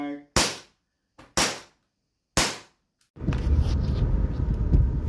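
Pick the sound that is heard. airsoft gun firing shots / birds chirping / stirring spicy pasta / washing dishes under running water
airsoft gun firing shots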